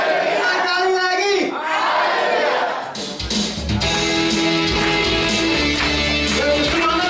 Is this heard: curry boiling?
no